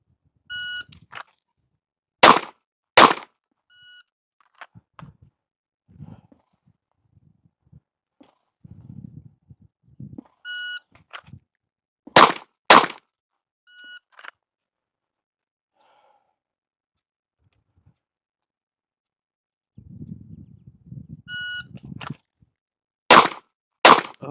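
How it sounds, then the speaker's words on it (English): Sharp pistol shots in pairs during a timed draw-and-fire shooting drill, each pair preceded by electronic timer beeps, with quiet rustling and breathing between strings; three such sequences spread across the stretch. "We will draw and fire 2 rounds in 3 seconds."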